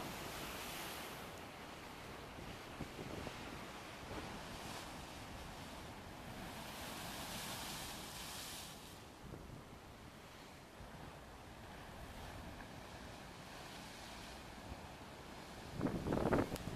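Rough sea waves break and churn along the shore at Port de Bouc, a steady broadband roar of surf with wind noise that swells briefly louder near the end, with no voices.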